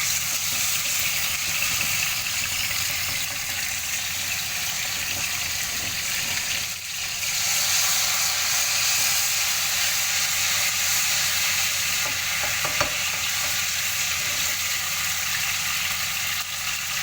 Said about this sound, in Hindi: अब ये 1 चम्मच अदरक लहसुन पेस्ट मैं डालूंगी